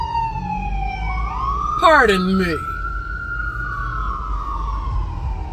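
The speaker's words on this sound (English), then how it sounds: "Oh, come on, ambulance, go save some lives." An ambulance siren wails past close by, a loud rising and falling tone that bends as the vehicle goes by, with a brief burst of honking in the middle, while a voice speaks briefly over it.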